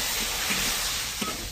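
Cured fish with ginger is stir-fried in a wok, giving a steady close hiss and sizzle with a couple of brief scraping stirs.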